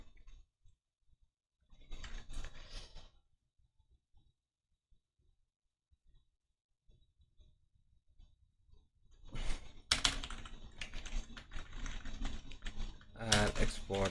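Lazy typing on a computer keyboard, with soft key clicks in a short burst, then a longer, denser run of tapping near the end, close and moderately loud, with quiet gaps between.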